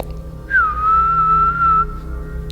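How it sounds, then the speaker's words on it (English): A steady, high-pitched tinnitus ringing tone holds for over a second, bending slightly at the start, then cuts off, leaving a faint low hum underneath. "my tinnitus got louder."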